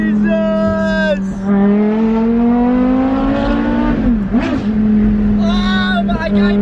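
A Porsche Carrera GT engine is heard from inside the car. It revs upward in a rising wail, drops sharply on a downshift, then climbs again. Voices talk excitedly over it.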